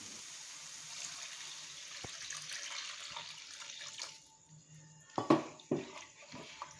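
Water pours steadily into a hot pan of tomato paneer masala gravy with a hissing rush for several seconds, followed by a few clanks of utensils near the end.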